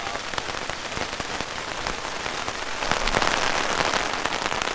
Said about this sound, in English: it was raining a minute ago, now it's hailing, and the tent is keeping us really, really dry